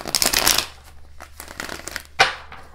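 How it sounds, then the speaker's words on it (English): Tarot cards being shuffled by hand, with a dense riffling burst at the start, softer intermittent flicks and slides of the deck, and a brief sharp snap near the end, close and fairly quiet. "Spirit says one more shuffle, and then we can go ahead and get started with the tarot."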